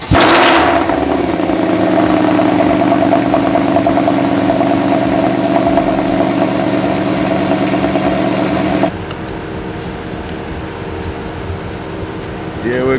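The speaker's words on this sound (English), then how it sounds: "Let's get a cold start." A Mercedes-AMG Black Series engine on a cold start runs loud and steady for several seconds, then drops to a lower idle, with a voice speaking over the engine noise.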